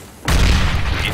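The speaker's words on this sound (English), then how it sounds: "Grenade out!" A grenade detonates in the shooter game CS:GO, a sudden loud boom followed by a sustained rumbling roar that carries to the end.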